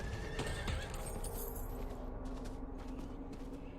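A horse neighs with a drawn-out whinny at the start in the video game Diablo 4, followed by clip-clopping hooves, all fairly faint and steady in the background.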